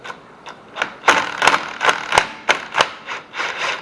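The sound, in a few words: impact wrench lightly tapping on a car hub nut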